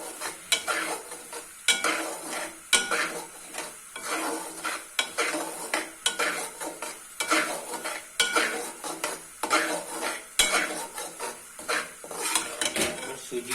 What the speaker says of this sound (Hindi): इस तरह से चमचा सूजी में चलाते रहेंगे।